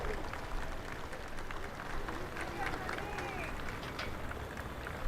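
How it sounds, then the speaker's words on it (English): A crowd gathered across the street from the Senate cheering and clapping as Mary Simon arrives for her installation as Governor General, a dense, steady wash of applause and distant voices without a break. "Lots of cheering."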